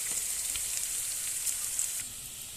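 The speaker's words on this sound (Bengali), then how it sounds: "আমি সব একসঙ্গে মশলা একটু তেলের সঙ্গে ভেজে নেব" Onion, ginger paste and spices fry in oil, giving a steady, soft hiss of sizzling throughout with a few faint pops.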